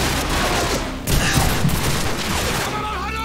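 Gunfire in Call of Duty 4: Modern Warfare comes as a dense, continuous barrage of rapid shots and blasts, loud and unbroken throughout apart from one short dip.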